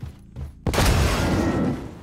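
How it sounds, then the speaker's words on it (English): A big explosion in a video game: after quieter game noise, a sudden loud boom hits and rolls into a long, dense rumble that fades slightly over about a second and a half. "You can't beat a big explosion."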